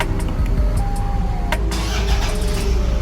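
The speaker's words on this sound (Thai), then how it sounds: "เครื่องยนต์ก็จะสตาร์ทติดนะครับ" A Toyota Fortuner started with a push-start button idles loudly and close by, a steady low engine rumble that runs throughout with no talking.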